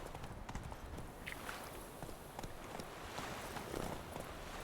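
Hooves of Roach, the horse in The Witcher 3, clip-clop in a quick uneven walking rhythm, faint and close, over a soft game ambience with no talking.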